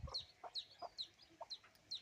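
A village hen sitting with her chicks gives a series of about five short, sharp clucks at an even rhythm, faint and fairly close, with no talking.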